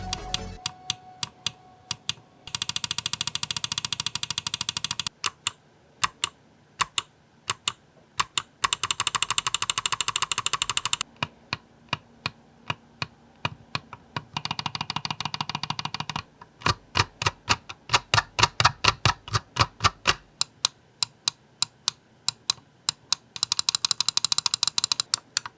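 Rapid, crisp clicks from the switches of a Lamzu Atlantis Mini gaming mouse come in bursts and steady sequences, close up and sharp, with bursts of hiss between the clicks.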